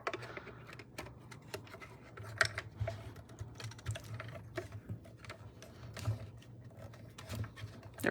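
A manual paper cutting machine is cranked back and forth to cut paper leaves for an autumn place setting, giving close, steady clicking and ratcheting with a low mechanical hum and no talking.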